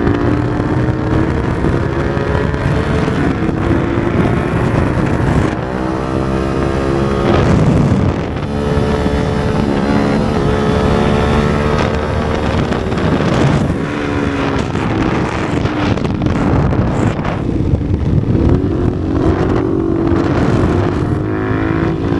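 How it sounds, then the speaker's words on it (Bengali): A motorcycle fitted with an aftermarket exhaust is ridden along, its engine droning loudly and continuously with rising and falling revs, buffeted by heavy wind noise throughout. "দেখি একজস্ট চালা বাইক চালাই"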